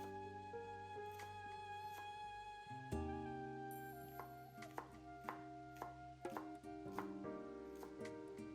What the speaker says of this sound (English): Chop the white part of a scallion bowl.